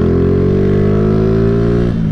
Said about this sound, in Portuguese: Tacando marcha na CGzinha, CD25 original.